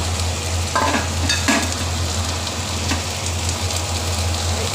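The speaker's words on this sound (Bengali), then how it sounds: "আগে এটা সুন্দর ভাজা ভাজা করে নিই" Carrot, cabbage and beans stir-fried in a pan give a steady close sizzle, with a few scraping stirs of the spatula breaking through the frying hiss; nobody speaks.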